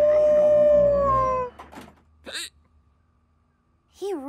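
A hound howls in a long, loud, sustained wavering tone for about a second and a half, followed by shorter yelping, whimpering dog calls after a quiet gap.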